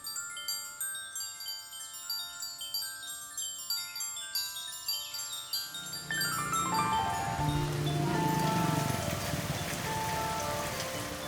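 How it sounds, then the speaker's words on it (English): Tropical downpour in a working-class Hanoi neighborhood, first heard as rhythmic patters under a bright tinkling tone, then swelling at the midpoint into a loud, dense, steady roar of rain. "A tropical downpour in a working-class neighborhood on the outskirts of Hanoi."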